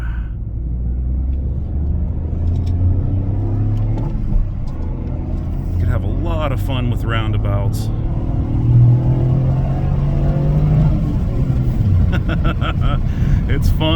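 The 1.6-litre three-cylinder engine of a Toyota GR Corolla rumbles steadily while driving, rising and falling with throttle changes. The engine sits mostly under someone talking.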